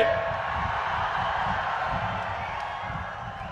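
A large crowd at the Prajagalam political rally in Anakapalli claps together, a dense, continuous wash of applause that is loud at first and then eases slightly, with some cheering mixed in.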